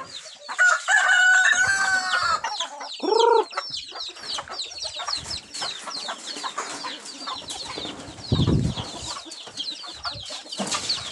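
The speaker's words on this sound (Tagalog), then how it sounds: "Manok na naglilimlim." A brooding hen clucks and a rooster crows nearby, with other fowl calling in a busy farmyard chorus throughout.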